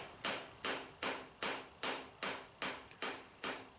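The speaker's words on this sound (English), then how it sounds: "I turn the head around and start forging out my spike a little more" Steel tomahawk head, made from an old adze, being hammer-forged: eight evenly spaced, sharp ringing blows about half a second apart, each with a short decaying tail, heard alone and fairly quiet.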